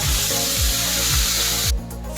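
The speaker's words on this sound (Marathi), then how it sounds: "आता या खमंग फोडणीमध्ये ही भाजी आपल्याला घालायची" Roselle leaves dropped into a hot tempering of chillies, garlic, curry leaves and turmeric, giving a loud, dense sizzle with scraping stirs that cuts off sharply near the end.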